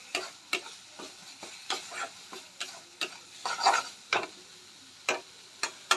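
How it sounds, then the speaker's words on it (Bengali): A spoon stirs masala with turmeric powder in a pan for a katla fish curry, giving a run of about a dozen sharp scraping knocks in an uneven rhythm over a faint low sizzle. "এবার এটাকে দিয়ে ভালো করে আমরা মিক্স করে নেব মশলাটা।"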